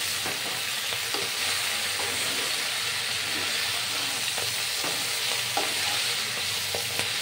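Vegetables for a Bengali pui mituli chorchori stir-fry in a pan, a continuous loud sizzle with periodic scraping and tapping from the stirring spoon, no voices.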